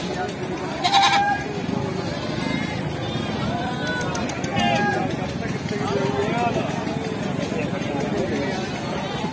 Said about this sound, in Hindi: इस बकरी के दो बच्चे हैं, बच्चों वाली बकरी है